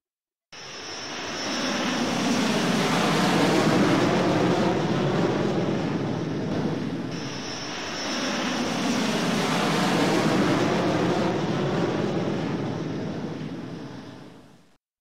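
A jet plane in a Half-Life mod roars past in a long, loud whooshing drone that swells, dips slightly midway and swells again before fading out, with no talk over it.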